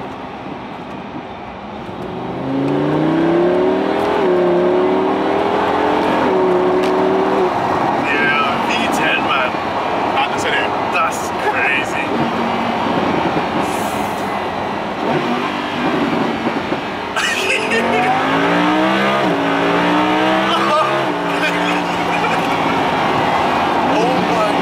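A Lamborghini engine revs loudly while being driven from inside the car, its pitch climbing and dropping through repeated throttle blips and gear changes. People talk over the engine noise throughout.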